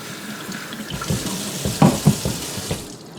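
Steady running water from a tap during a hair wash at a sink, with splashing and gurgling bursts as the stream hits hair and basin, close and fairly loud.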